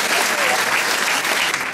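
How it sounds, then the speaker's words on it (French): A crowd claps for pageant candidate Estelle at the Miss Cristal 2012 election, a brief dense burst of applause filling the room at an even loudness. "on peut l'applaudir"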